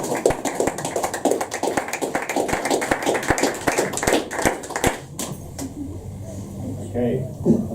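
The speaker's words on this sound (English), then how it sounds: "You got quite a lot of applause" Audience at a poetry open mic in a pub applauds a floor reader after a poem, a dense run of many hands clapping at close range that cuts off abruptly after about five seconds, leaving quiet room murmur.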